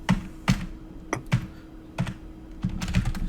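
Keys clack on a computer keyboard in bursts of a few quick strokes separated by short pauses, close and fairly crisp over a faint steady hum, with no talking.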